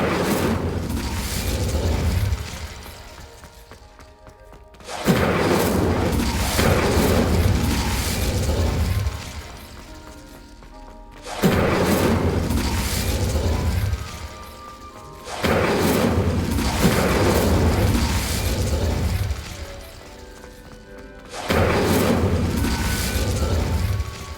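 Incendio fire spell cast repeatedly in Hogwarts Legacy on Xbox Series X|S: five loud roaring blasts, each lasting a few seconds, separated by brief quieter gaps.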